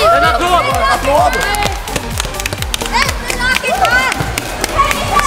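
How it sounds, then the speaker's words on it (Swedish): A group of dodgeball players and fans claps for the winning team after a match, with scattered claps and shouts rising over lively voices and movement. "En applåd! Applåd!"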